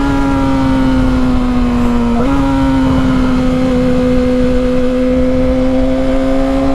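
A Yamaha R6 sport motorcycle engine holds a loud, steady high-RPM rev close up, with a brief dip and recovery partway through and a strong continuous whine throughout.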